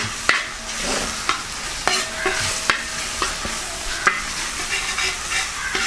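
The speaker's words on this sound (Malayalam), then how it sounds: "നമ്മൾ ഇത് കുറച്ച് വഴണ്ടതിന് ശേഷം പതിയെ ഇഞ്ചി അങ്ങ് ചേർത്ത് കൊടുക്കാം." Mutton head with crushed ginger being sautéed in a pan: a steady sizzle and fry broken by repeated sharp scraping stirs of the spoon, close and fairly loud, with no talking.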